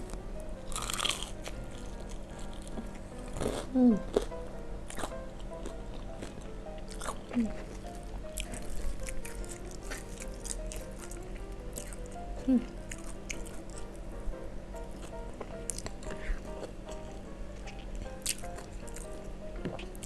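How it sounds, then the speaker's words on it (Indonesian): Someone bites and chews KFC fried chicken with sambal korek, giving close, wet crunches and squishy mastication in an irregular rhythm, with a few sharp crisp bites and faint talk in the background. "Ini sambal koreknya guys. Langsung kita gigit ya."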